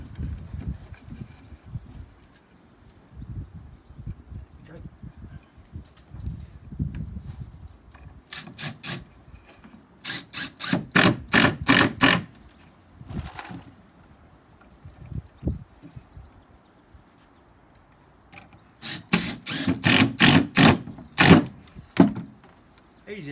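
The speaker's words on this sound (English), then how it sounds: "So I'm going to screw these down" Screws being driven into wooden battens on a garden picnic table top, heard as bursts of rapid, rasping clatter from a close power driver, separated by quieter handling noise and thuds.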